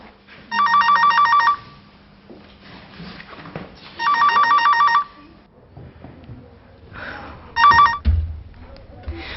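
A telephone rings in an office with three bursts of electronic trilling, each about a second long, separated by quiet gaps with faint background voices.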